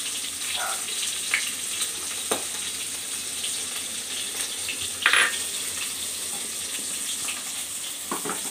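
Steady, fairly quiet sizzle of katla fish pieces frying in oil in a pan, with scattered clicks and a few brief scrapes or clatters, one of them sharper near the end.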